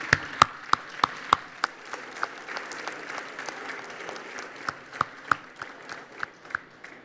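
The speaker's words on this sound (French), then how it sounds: "c'est qu'on puisse les applaudir bien fort" An audience at a health event applauds the participants, a moderate round of clapping with a few sharp, close claps punctuating the steady patter throughout.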